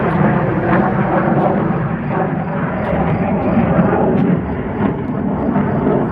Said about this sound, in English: Depends on which way that plane's going.